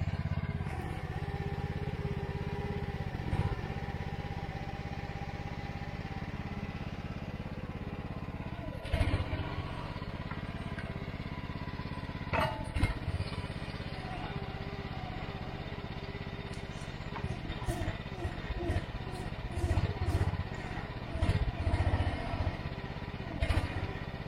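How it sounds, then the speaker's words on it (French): Diesel engine of a Mygale 600 micro excavator running steadily while cutting a sloped path, a constant low drone with faint clanks and rattles from the machine over the whole stretch. "C'est fou la puissance de ce moteur quand même"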